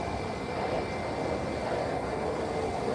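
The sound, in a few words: aircraft landing on runway at SJU airport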